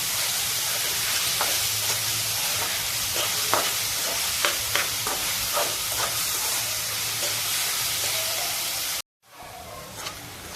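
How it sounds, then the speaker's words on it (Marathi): Chopped onion sizzles and fries steadily in a hot pan on a high gas flame, with intermittent stirring scrapes and clicks over a continuous hiss, cutting off briefly near the end before resuming. "कांदा आपण चांगला परतून घेऊ कांदा हा पूर्ण साठा होत तोपर्यंत परतून घ्यायचा आहे"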